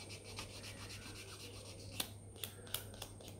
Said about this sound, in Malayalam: ആ സ്മൂത്തിൻ്റെ സാധനം വെച്ചിട്ട് അത് നമുക്ക് ഫുൾ നെയിൽസിൽ ഉരയ്ക്കാം കേട്ടോ